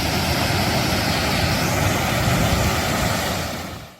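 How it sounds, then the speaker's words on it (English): The waterfall at Lake Lachute in Vermont roars as a loud, steady broadband rush of falling water, continuous and close, fading at the very end. "So we found the waterfall at Lake Lachute."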